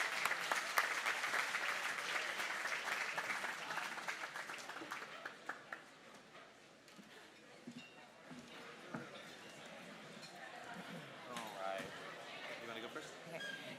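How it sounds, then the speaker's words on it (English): Crowd at a summer camp fundraiser bash claps for the donors, loud applause at first that fades after a few seconds into scattered claps, chatter and room noise. "Big round of applause for our donors."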